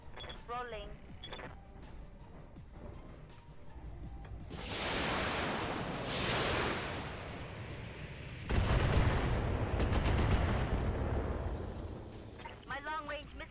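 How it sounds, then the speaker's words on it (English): Long-range missile salvo firing in the BATTLETECH video game: dense bursts of roaring launches and booming impacts that swell midway and peak loudly near the end, with crackling debris and game effects layered throughout. "Witness's last salvo goes off."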